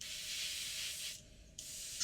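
An airbrush hisses steadily while spraying paint onto the tip of an aircraft propeller. The even, close spray cuts off briefly for under half a second, then resumes just as strongly.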